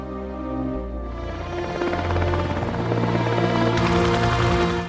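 A helicopter arrives at dawn, its rotor thudding in a steady rhythmic beat and turbine whine growing louder and nearer, with a dramatic musical score layered over it.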